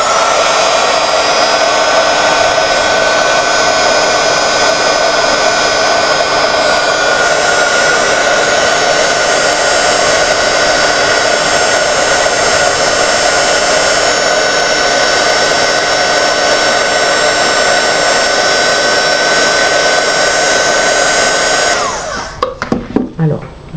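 Heat embossing tool blows steadily while making a rounded Christmas card, a loud constant hairdryer-like whoosh lasting over twenty seconds, cutting off near the end with faint handling noises.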